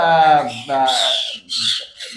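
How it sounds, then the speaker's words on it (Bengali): A black-capped lory gives loud, raspy squawks in quick succession close by, with a person's voice underneath at the start. "black cap chattering black cap chattering"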